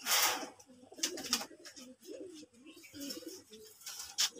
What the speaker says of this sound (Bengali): তো এখানে আমি কিছু কবুতর রেখেছি দুই পিস